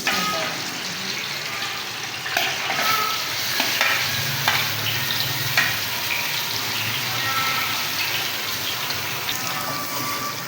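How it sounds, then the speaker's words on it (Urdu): Chicken frying in hot oil in a pan for a karahi gosht dish: a loud, steady sizzle with occasional stirring scrapes, close and continuous. "اب ہم اسی تیل میں چکن کو فرائی کر لیں گے۔"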